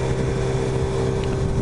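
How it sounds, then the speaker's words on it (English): Kawasaki motorcycle engine droning steadily while riding, a constant loud hum with wind noise and no break. "The bike makes so fucking loud noise."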